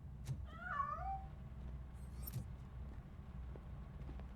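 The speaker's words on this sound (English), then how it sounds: "That cat must be hiding inside." A cat meows in the video game Robocop Rogue City. One clear, rising-and-falling meow comes early, then a few faint clicks and thumps follow over a low hum.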